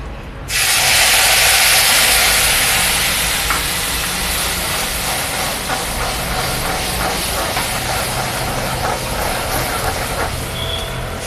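A spice mix hits hot oil with a sudden loud burst of hissing sizzle that stays strong and close, then eases slightly to a steady crackling fry.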